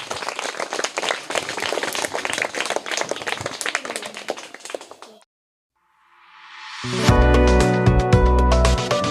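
Applause and clapping from a school audience for the winner of a general-knowledge quiz, a dense burst of claps lasting about five seconds before stopping abruptly and giving way to loud music.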